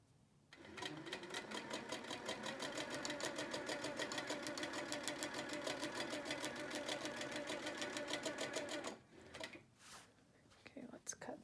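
A sewing machine stitches straight lines across a quilt in a steady, fast, even whir for about eight seconds, then stops, followed by faint handling clicks.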